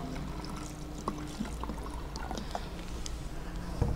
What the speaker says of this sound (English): we're going to pour some of our vinegar in our bottle